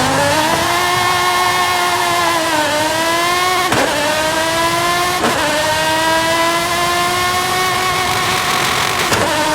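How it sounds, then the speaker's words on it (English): A loud racing car engine revs continuously in the video game Forza Horizon 5, its pitch rising and dipping through gear shifts, with no voices over it. "I love the sound of this car."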